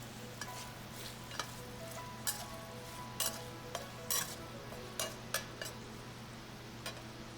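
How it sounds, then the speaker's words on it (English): Jalapeño stir-fried in leftover oil from Chinese cured bacon, with a faint, steady sizzle under a constant hum and sporadic light scraping strokes of a utensil in the pan. "we're gonna use that leftover oil to stir fry the jalapeno"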